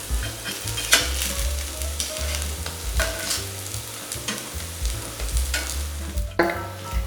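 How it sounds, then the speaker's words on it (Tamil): Sweet kuzhi paniyaram sizzle steadily in hot oil in a pan, with repeated close scraping clicks as each one is turned over. "ஸ்வீட் பணியாரமுங்க இப்படி திருப்பி போட்டுக்கணும்."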